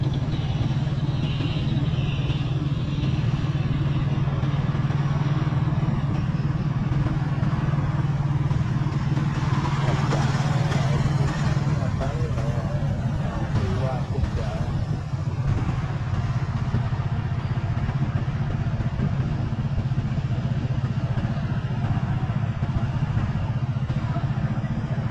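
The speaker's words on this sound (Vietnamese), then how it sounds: "xe máy lưu thông qua lại nhiều hơn" Motorbikes pass along a rural market road by Vinh Thuan market in An Giang, engines droning and rising as they go by, with a steady low hum and busy street clatter throughout.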